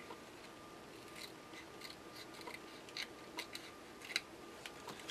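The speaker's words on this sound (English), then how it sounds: "what I do with these scissors is try to cut right around the line that's at the base of the mold" Scissors snip a clear Lexan HO-scale car body free from its mold, with quiet, irregular clicks and cuts close to the mic against a faint background hum.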